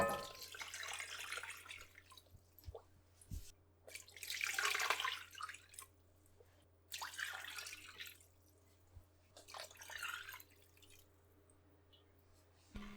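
Water is poured into a large soup pot already holding chicken, salt, quartered white onion and shallots for Vietnamese asparagus crab soup. It comes in several splashing bursts separated by brief pauses, close and fairly quiet.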